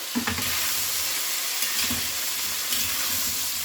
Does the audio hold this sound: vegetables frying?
yes